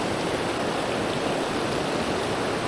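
Fast-flowing mountain creek in the Great Smoky Mountains, Porters Creek, rushing steadily nearby as a dense, continuous wash of water with no breaks and no voices.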